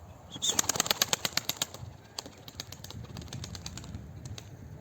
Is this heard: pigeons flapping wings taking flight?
yes